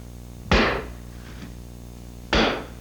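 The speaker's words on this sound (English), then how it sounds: "to install this, we use this metal clinching tool" A metal clinching tool strikes metal corner bead onto drywall twice, each a sharp, loud, close impact with a short ringing tail, the two hits spaced nearly two seconds apart.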